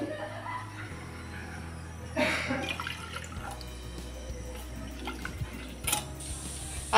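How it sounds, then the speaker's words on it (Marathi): Water pours into a pot for boiling moong dal, a close splashing and filling sound with a few drips, plus a brief burst of pouring midway and faint background noise. "त्याच कपाने मी 2 कप मुगाची डाळ उकळण्यासाठी पाणी घालणार."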